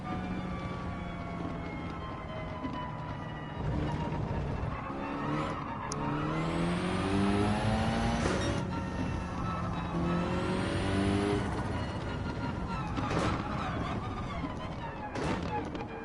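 Race car engines scream on the final lap of an online Gran Turismo 7 race, rising and falling as the cars shift gears. Tire squeal comes in places, and rival cars roar past, loud and continuous.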